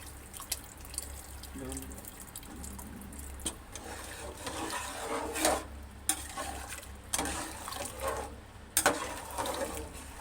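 Water poured into a pan of cooked, fried-down masala for khichuri splashes and trickles, with dripping and light stirring clatter and faint voices in the background.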